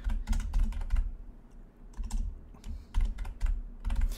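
Someone types a short bookmark name on a computer keyboard: close, crisp clusters of keystrokes in quick bursts separated by brief pauses.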